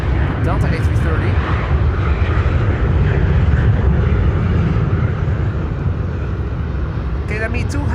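Delta A330 airliner on the runway at Amsterdam Schiphol, a loud, continuous low engine roar with a rough rumbling texture, holding steady throughout with brief voices faintly audible at the edges.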